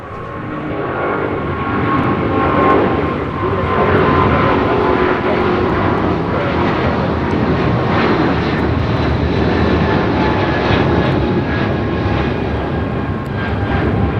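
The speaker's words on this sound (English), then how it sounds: "This is United Airlines 1635 taking off to Washington Dulles on a 777-200ER." A United Airlines Boeing 777-200ER takes off, with a loud, steady, broadband jet roar that holds strong throughout and rises slightly as it climbs away.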